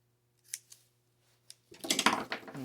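Scissors cutting material while assembling a boffer blade: a few isolated snips, then a dense burst of rapid cutting and rustling, close and alone without talk.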